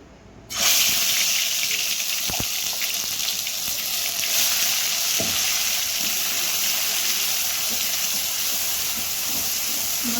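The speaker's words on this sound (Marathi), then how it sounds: "आता आपण हे बघ, कढई तापली आपली चांगली. आता घेऊ मसाला परतून." Masala ground with tomato sizzles in a hot kadhai, a loud continuous hiss and crackle of frying that starts abruptly and holds steady to the end.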